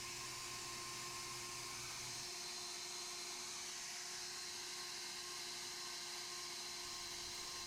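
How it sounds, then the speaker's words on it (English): A faint, steady high whine comes from a grinder working down a cow's hoof around a puncture site, continuous and unbroken at a distance, with no talking. "I'm using my grinder to lower that puncture site area so that I have less paring to do with my knife"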